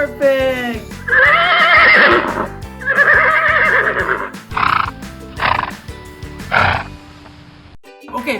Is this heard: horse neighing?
yes